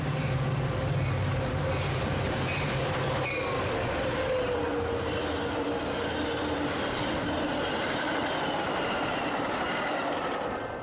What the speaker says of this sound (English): The next train that we scored was a Metra Express train with another doubleheader.